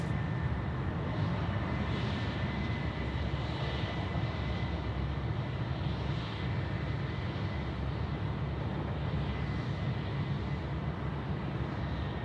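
Qantas airliner at Sydney Airport, a continuous loud broadband jet engine roar holding steady throughout without pauses, heard from a plane-spotting position with no talk.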